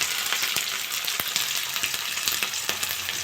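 Onion sizzles in hot oil alongside crushed garlic and green chillies, a steady close crackle with scattered small pops and no talking.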